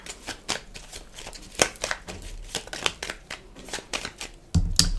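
Tarot cards are shuffled by hand, giving a rapid ragged riffle of soft slaps and flutters that repeats through the stretch and ends in a heavier thump, close and moderately quiet.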